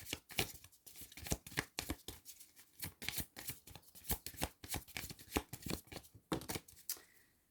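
Tarot cards being shuffled and drawn: a rapid, close run of crisp riffling snaps and flicks, dense and fairly steady throughout with brief gaps.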